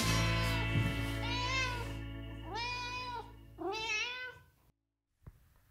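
A cat meows three times in a row, begging for a treat from newly received cans of cat food. The calls are insistent, drawn-out and close, with no talking, and end in a short quiet pause.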